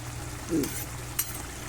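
Potato curry (aloo curry) fries in a pan and is stirred with a spoon. A soft, faint sizzle runs throughout, broken by a couple of brief spoon scrapes against the pan.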